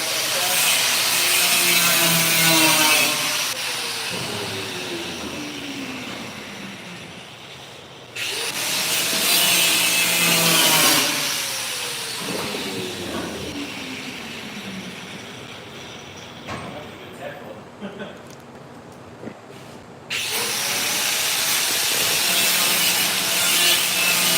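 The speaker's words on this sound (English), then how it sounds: "Let me cut this weld loose here." A weld is cut loose with a grinding or sawing tool: harsh rising and falling whining bursts in three long passes, with quieter scraping and clinks between them, close by.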